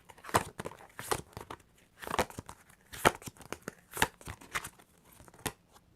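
Tarot cards being handled, drawn and turned over at a reading, giving a series of soft, close paper crinkles, rustles and taps in irregular bursts with quiet gaps between them.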